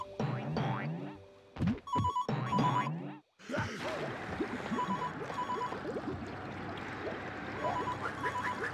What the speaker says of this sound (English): And there's that phone again, too.